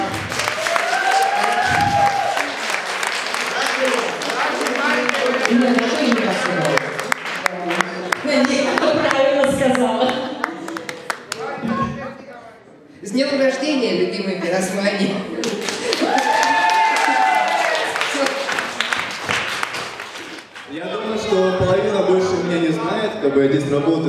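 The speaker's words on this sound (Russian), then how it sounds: "Аплодисменты." Audience clapping and light cheering at a birthday celebration, the applause running under loud music and voices, dipping briefly twice before picking up again.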